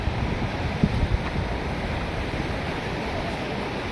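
Deep, fast-flowing water rushes in a continuous, loud roar with wind-like noise on the microphone, and a couple of brief knocks sound early on.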